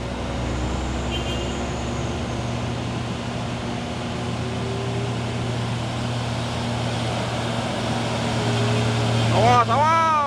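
A Hino Trinton Puso Super Grid truck engine gives off a steady, droning low hum with a constant tonal pitch. It holds at a moderate level throughout and swells briefly near the end.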